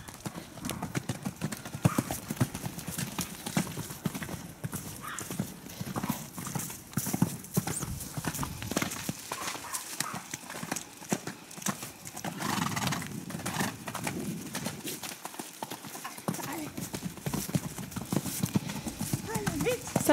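Horses trotting in training, a continuous close clip-clop of hooves with an occasional whinny, while people talk throughout.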